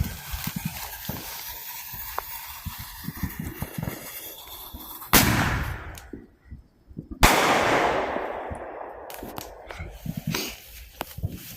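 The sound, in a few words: firework explosion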